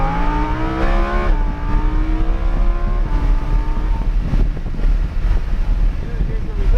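A race car at Hallett Motor Speedway rolls onto the throttle, its engine note climbing in rising harmonic sweeps under heavy wind buffeting inside the cockpit, with a voice coaching over it.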